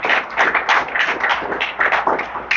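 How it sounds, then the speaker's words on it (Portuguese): A church congregation claps loudly during a worship service: dense, close, continuous hand-clapping with rapid overlapping slaps, strong and unbroken for the whole moment. "Vamos aplaudir bem forte ao nosso Senhor."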